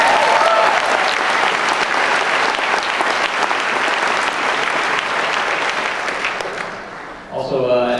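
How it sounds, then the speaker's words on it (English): A crowd applauds loudly with steady, dense clapping for about seven seconds before it quickly dies away. "let's give a round of applause for that"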